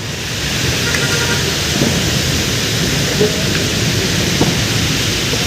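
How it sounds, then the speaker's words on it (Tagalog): Heavy rain pours down in a dense, continuous roar, with a faint rumble underneath and no voices. "nabutan din ng malakas na ulan"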